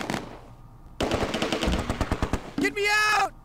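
Rapid machine-gun bursts and gunfire from the World War II strategy game Close Combat 2, loud and close, ending in a brief sharp electronic effect.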